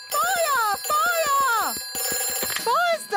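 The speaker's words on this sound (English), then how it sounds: "Ooh, a telephone." A cartoon telephone rings in a rapid electronic trill, sounding in three close bursts, loud and near, with a voice talking over it.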